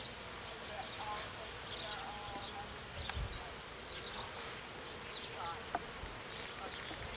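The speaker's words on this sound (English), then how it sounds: "These bees have been in here for 2 weeks." Honey bees in a new hive at a two-week inspection, heard as a steady, faint hum of buzzing wings with brief louder sounds of handling near the hive.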